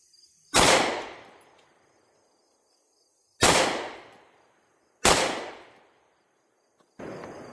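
Four sharp pistol shots ring out at slow, uneven intervals, each a loud close crack with a brief decaying tail, fired at a target with a 6 MOA Osight K red dot sight, with quiet gaps and no talking in between.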